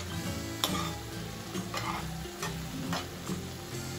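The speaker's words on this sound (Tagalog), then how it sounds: "Okay, gisa-gisa ko muna" Sautéing in a pan at home during a banana cue and kamote cue snack session: a steady sizzle with rhythmic stirring scrapes and light metal ticks, close and alone.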